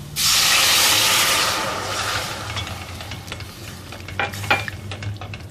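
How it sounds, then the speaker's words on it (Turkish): Cold water poured into tomato paste frying in a pan raises a loud burst of hissing steam and sizzle that fades over a few seconds into a softer bubbling fry with faint stirring clicks, with no voices. "şimdi ilk başta bir su bardağı soğuk su ekliyorum"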